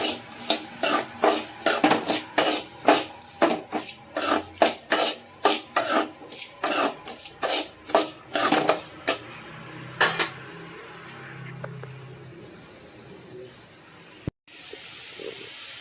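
Onions and tomatoes being sautéed with salt in a pan give a steady series of rhythmic scraping strokes for about ten seconds, fairly close and loud, before easing into a quieter low sizzle with a sharp click near the end.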